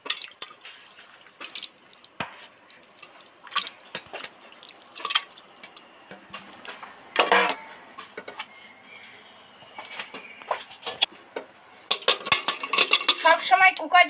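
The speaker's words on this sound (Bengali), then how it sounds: "মাংসটা এই কুকারের মধ্যে দিয়ে নেব।" Mutton being tipped into a pressure cooker, with scattered clinks and knocks of metal utensils and pot against a faint steady high-pitched hum, close, sparse and irregular, growing busier with rapid clatter toward the end.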